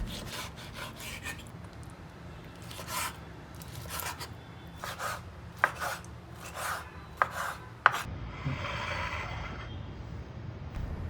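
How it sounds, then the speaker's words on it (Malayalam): Mutton liver is cut into small pieces on a board, producing a run of soft, close knife strokes in quick bursts, several sharper taps, then a duller rubbing noise at the end. "350 ഗ്രാം മട്ടൺ ലിവർ നമുക്കൊന്ന് ചെറുതായിട്ട് അരിഞ്ഞ് കഴുകി എടുക്കാം"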